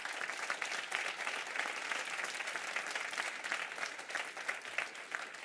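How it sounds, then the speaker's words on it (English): Audience applause for the staff at a Beyond Ferguson afternoon session, a dense, even roar of many hands clapping steadily on its own throughout. "if you'll give them applause as well"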